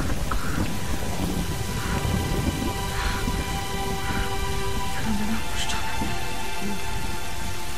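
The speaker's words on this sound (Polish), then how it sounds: "Deszczowo trochę" Steady rain and rumbling thunder in the video game Tomb Raider: Definitive Edition on an island, a constant loud downpour with scattered drops and brief tonal game sounds over it, no talk.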